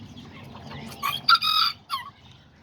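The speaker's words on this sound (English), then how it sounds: "These are all the little chickens I'm gonna be selling right here." Kikiriki and Azteca chickens and roosters cluck and squawk in short, mid-distance bursts over a low rustling background, with one brief crow-like call standing out.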